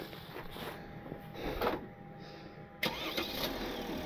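Old wrecker truck engine cranking and catching, fairly quiet and a little distant, with a brief rise around the middle and a sharper burst as it fires near the end.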